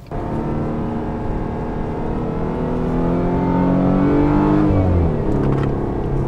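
Volvo S60 engine held in second gear at 60 km/h, revs rising into a loud, strained drone that swells then drops back, recorded from inside the car without talk.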